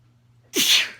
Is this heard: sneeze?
yes